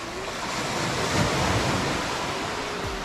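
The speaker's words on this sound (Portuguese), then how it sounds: "a maré tá subindo, então não vai dar pra fazer muita coisa" Rough, violent sea surf at rising tide below a coastal clifftop trail, heard as a dense, continuous roar of crashing waves with a slight surge in the middle, close and loud, mixed with wind buffeting the microphone.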